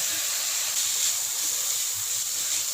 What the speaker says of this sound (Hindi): चिकन डालकर 3 से 4 मिनट के लिए इसको भून लेंगे।